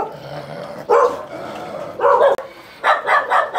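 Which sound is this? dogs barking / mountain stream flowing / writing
dogs barking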